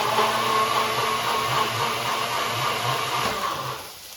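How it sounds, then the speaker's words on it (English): A blender whirs steadily as it mixes stir-fry sauce ingredients, a loud continuous motor whine lasting about four seconds before it winds down at the end. "And now I'm going to blend all the sauce ingredients together."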